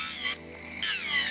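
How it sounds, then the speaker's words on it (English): A power drill grinds down a nail ledge on an aquarium in two loud, close bursts with a brief gap between them, and no voices are heard. "I'm going to have to take my drill and just be careful"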